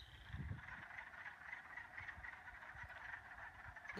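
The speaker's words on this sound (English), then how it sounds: "I think those are chorus frogs." A dense chorus of frogs calls continuously at a distance, a steady trilling buzz with faint low croaks mixed in, quiet and unbroken.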